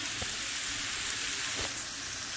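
Garlic sizzles in a hot pan with a steady broadband hiss, broken by a couple of faint stirring clicks; no one speaks.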